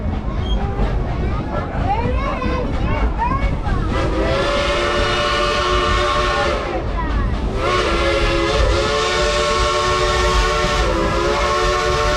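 A train rumbles steadily while a loud whistle blows in long sustained blasts, pausing briefly before sounding again; voices murmur beneath the noise.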